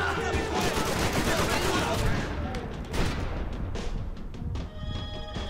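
Dense, continuous gunfire from the shooter video game Max Payne 3 keeps up loud rattling bursts and booms throughout.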